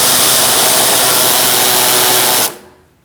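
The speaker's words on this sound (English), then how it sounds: "Use a self-tapping screw and screw it in." A power driver sends a self-tapping screw into the bumper of a 2008-2014 Mercedes-Benz C300 to mount a front license plate bracket: a loud, steady high whir held up close, then a sudden stop and a brief fade.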